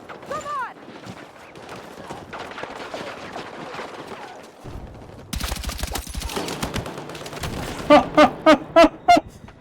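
Gunfire in the video game Battlefield 6: dense bursts of automatic fire and scattered shots, ending with several loud, evenly spaced close reports, all under excited talk.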